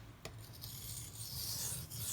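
A Benchmade Mini Crooked River knife edge rubs against a sharpening surface in a faint, steady rasping stroke with a couple of brief scrapes, quiet and close.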